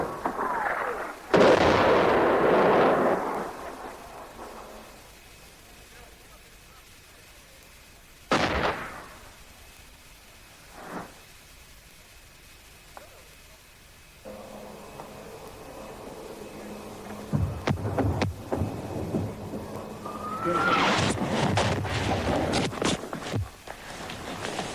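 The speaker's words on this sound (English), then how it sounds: "the Argentinians started bringing down artillery fire" Artillery fire during the Falklands War, with several loud, sharp booms spaced irregularly across the clip, followed by a burst of closely spaced cracks and a rumbling roar near the end.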